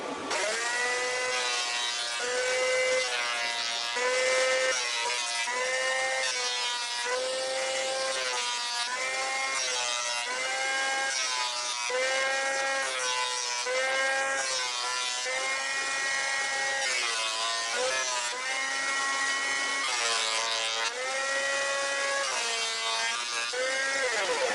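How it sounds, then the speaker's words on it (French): Scroll saw cutting Christmas decoration shapes from wooden templates, a continuous fast buzzing rasp with repeated rising and falling strokes as the blade follows the outlines, close and steady throughout with no talking. "on va découper ça sur cette fameuse scie à chantourner"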